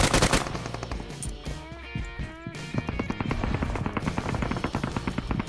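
Gunfire in the video game PUBG Mobile, with a dense rapid burst of automatic shots rattling loudly and almost continuously, including a brief lull.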